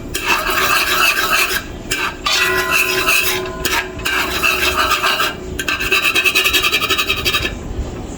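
Sugar melting in a pot is stirred for pelau, giving a steady close scraping and rubbing with short pauses between strokes and a faint sizzle underneath.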